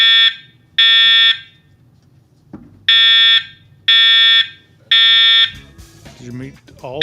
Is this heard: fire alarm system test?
yes